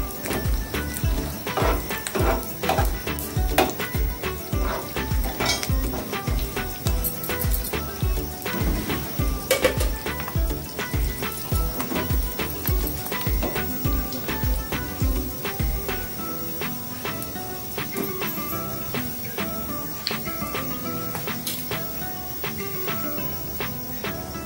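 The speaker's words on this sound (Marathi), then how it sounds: "बदाम, पिस्ता आणि चारोळी टाकून घेते मी या तुपावर" Almonds, pistachios and charoli fry in ghee for a halim seed kheer, a continuous dense crackle of fine popping and spitting that stays even over the whole stretch, with no talk.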